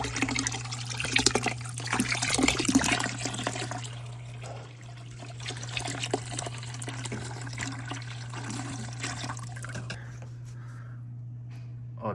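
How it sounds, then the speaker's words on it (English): Water runs and trickles steadily while sand is rinsed from the motor side of an FX6 aquarium canister filter, with a constant low hum underneath and some talk over the splashing. "Rinse out the sand on the motor side, so that all the sand gets collected on the opposite side."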